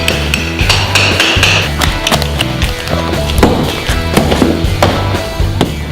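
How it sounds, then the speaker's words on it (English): Plaster being knocked off an old red brick wall in a historic house under renovation: loud, close, irregular hammering and chipping blows with scraping debris in between, a continuous run of impacts with no talk. "we're going to take all this plaster off and leave this distressed brick look"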